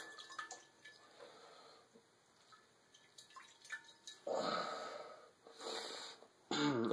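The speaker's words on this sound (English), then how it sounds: "I use it to strain the potatoes and get the liquid out" Liquid being strained and squeezed out of grated potatoes for hash browns: soft drips and faint trickling, then two louder bursts of pouring, splattering liquid near the end.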